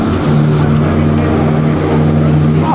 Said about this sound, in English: Another Ferrari here.